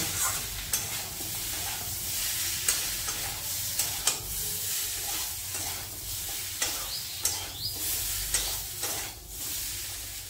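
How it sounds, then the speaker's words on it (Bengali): Moringa drumsticks are stir-fried in spices in a hot pan, giving a steady sizzle and hiss broken by regular scraping and clattering spatula strokes, close and without talk. "সজনের ডাঁটাগুলো দিয়ে দেব। দিয়ে 2 মিনিট কষিয়ে নেব।"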